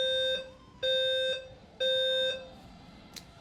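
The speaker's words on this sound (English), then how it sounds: "I think that's the fire alarm." An apartment fire alarm, apparently under test, sounds in three long electronic beeps with short gaps between them. The tone is loud, steady and harmonically rich, with no speech.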